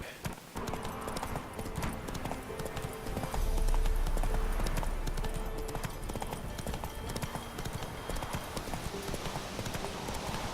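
Horse hooves clip-clopping on a road in The Witcher 3: Wild Hunt, a steady rhythmic trot at moderate volume with game ambience underneath.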